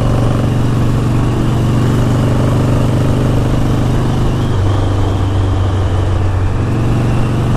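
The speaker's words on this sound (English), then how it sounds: "This wraps up the test drive of my 80-something Harley-something." A 1983 Harley-Davidson Ironhead motorcycle engine runs steadily and loudly up close on a test drive, with a deep, constant rumble and some mechanical clatter throughout.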